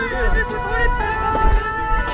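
A fire engine siren wails through a Paris street near the Canal Saint-Martin, its rising and falling tone moderately loud amid wind noise and traffic rumble.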